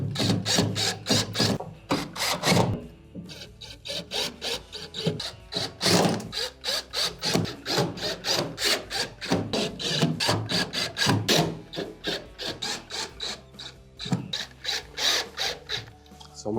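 Screws are driven back into the rear of a Whirlpool microwave's outer wrap, a run of sharp, rapid ratcheting clicks and scraping turns in close bursts with brief pauses, no talking.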